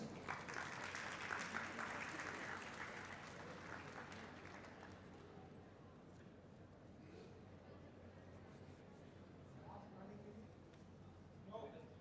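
Applause from the audience at the first IIC regional meet at SSIPMT Raipur, Chhattisgarh: a loud, dense clapping wash that slowly thins and fades over about twelve seconds, with a few scattered claps near the end.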